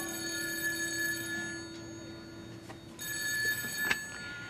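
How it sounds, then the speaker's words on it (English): An old landline telephone bell rings in a 1978 home, two steady ringing bursts with a short pause between them, fairly close and clear, with a faint knock near the end. "this phone has been ringing off the hook this morning"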